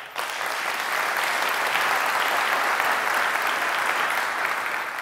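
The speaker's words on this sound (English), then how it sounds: "Come on, round of applause." An audience at a motivational talk breaks into a round of applause, a thick continuous patter of many hands that swells in quickly and stays steady and loud for about five seconds.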